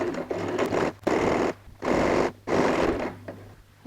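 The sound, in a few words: sewing machine stitching quilted bag lining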